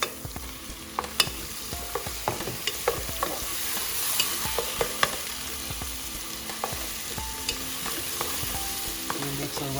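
Tomatoes and green chilies stirred and frying in a pan for lauki (ghiya) sabji: a steady sizzling hiss with frequent sharp clicks of the spoon against the pan, close by, with no talking.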